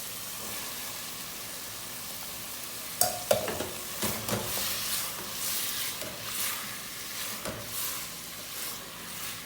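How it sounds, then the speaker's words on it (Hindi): Capsicum being stirred into potatoes frying in a pan, with a steady soft sizzle and a few sharp scraping clatters of the spoon near the start, then quieter stirring strokes. "आलू हमारे थोड़े से भुन गए। अब इनमें डालते हैं शिमला मिर्च।"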